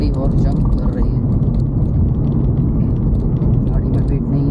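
A lone car, lightly loaded with only the driver aboard, jolts along a badly broken rural road, its engine rumble and bumping thuds steady and close throughout, with no talk.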